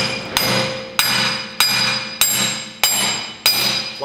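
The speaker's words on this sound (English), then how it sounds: "just take your hammer" A heavy hammer strikes the axle of an 11,000-pound Ford Super Duty service truck seven times in a steady rhythm, each blow ringing out with a bright metallic clang that decays before the next hit.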